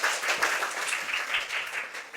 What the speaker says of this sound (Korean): 박수까지 한번 해봅시다.